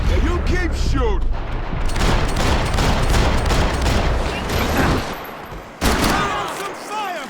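Dense gunfire rattles through a Max Payne 3 firefight, rapid bursts overlapping almost continuously with shouting voices mixed in, loud and close, with a brief lull before more shots resume.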